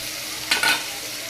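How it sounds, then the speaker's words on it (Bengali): Hilsa fish with eggplant and potato fries in a covered pan: a steady close sizzle with a brief louder stirring clatter midway. "এবার এটাকে একটু ঢাকা দিয়ে দেবো যাতে সবজি এবং মাছ কষানো হয়"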